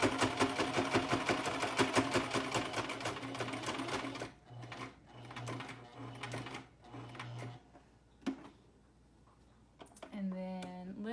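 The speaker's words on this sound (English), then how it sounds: "Make sure that's evenly on the mask and sew down." A sewing machine stitches down the edge of a fabric face mask in a steady, loud mechanical rattle for about four seconds, then shorter bursts follow with pauses as the fabric is turned, alongside soft handling noises.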